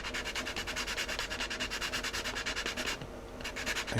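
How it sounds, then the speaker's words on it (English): Sandpaper roughening a model rocket part, a close, steady run of rapid rhythmic back-and-forth strokes with a brief pause near the end. "We will roughen that up first with a little sandpaper."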